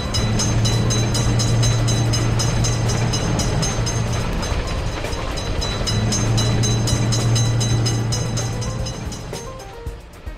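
A game train thunders through a level crossing in Railroad Crossing, a loud, continuous rolling rumble with a low droning tone that breaks off briefly and returns, tapering near the end with no voices.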